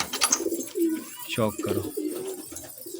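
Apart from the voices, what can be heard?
pigeons cooing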